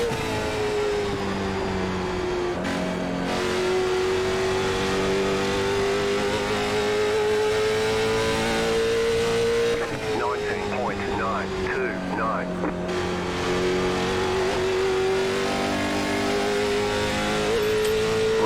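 Late model stock race cars roar around the Nashville track in a racing game, engines droning loudly and steadily with pitch shifts as they pass and shift gears, while a voice talks over the top.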